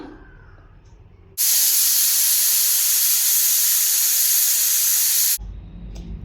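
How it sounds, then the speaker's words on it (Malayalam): A pressure cooker holding chickpeas for kadala roast lets out one long, loud whistle of venting steam, a sharp hiss that bursts on, holds for about four seconds and cuts off abruptly over quiet kitchen background. "അഞ്ച് വിസിൽ വന്നിട്ടുണ്ട്"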